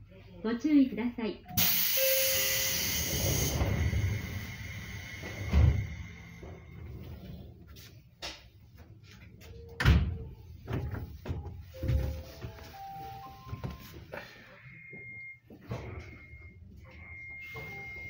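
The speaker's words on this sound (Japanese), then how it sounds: "ドアが閉まります。" Seibu 101 series train doors on the Tamako Line slide shut with a loud pneumatic hiss and thump, followed by scattered clunks, chimes and cab sounds as the train prepares to depart.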